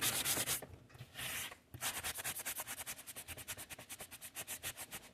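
Rapid, rhythmic scratching of sandpaper on a sanding block over magazine pages, quick back-and-forth strokes after a few longer rubs, close up with no talking.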